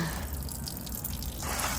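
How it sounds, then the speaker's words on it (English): Water drips and trickles from a drilled hole in a cracked pontoon chamber, a soft steady patter close by that swells into a louder splashing flow toward the end, with no talk. "Quite a bit of water in there still"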